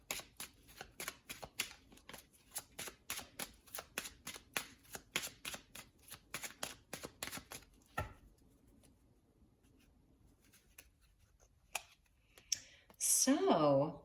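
Oracle cards are shuffled by hand in a quick, rhythmic burst of crisp riffling flicks, then the shuffling stops and leaves near quiet before a brief rustle and a louder noisy swell at the end.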